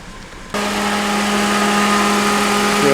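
A Holden Commodore with 236,000 km and a new radiator and coolant starts idling abruptly. It holds a loud, steady, close engine hum with an even tone and no revving.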